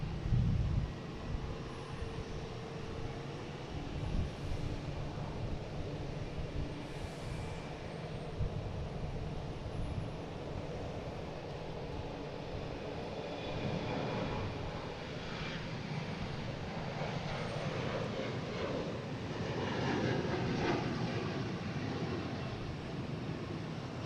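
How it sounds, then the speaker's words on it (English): A Delta Embraer E175 jet takes off from Boston Logan for JFK, its engine roar swelling into a broad, rising rumble that peaks past the midpoint and stays loud and continuous throughout, with no talking. "And we have Delta taking off, heading to JFK."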